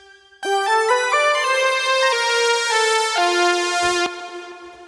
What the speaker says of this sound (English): Just like a very bright bell sound.